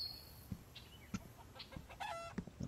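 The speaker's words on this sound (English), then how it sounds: "So we have our hens," Hens cluck in the farming video game Professional Farmer 2014, with several short, soft clucks and calls scattered over a quiet background.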